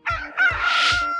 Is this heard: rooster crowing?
yes